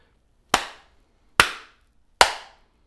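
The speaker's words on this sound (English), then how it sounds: "I'm gonna sign off with those three claps." Three sharp hand claps, evenly spaced about a second apart, each crisp and close with a short decay, used as a recording sign-off marker in an otherwise quiet room.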